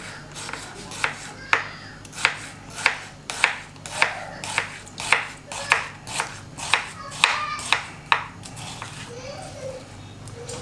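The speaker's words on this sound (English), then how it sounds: "So now we are chopping a bit of tomatoes." Knife chopping tomatoes into small pieces on a cutting board while cooking chicken biriyani, about a dozen crisp, evenly spaced chops at a steady rhythm, close and clear over a quiet kitchen background.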